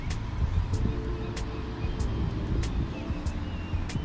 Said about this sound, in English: This is actually a bad thing to rotate the front wheels when the car is standing.